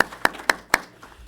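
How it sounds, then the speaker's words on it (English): A few sparse claps at a city council meeting honoring a director, three or four distinct sharp hand claps at an even rhythm, close and isolated before fading. "let's give her a round of applause here."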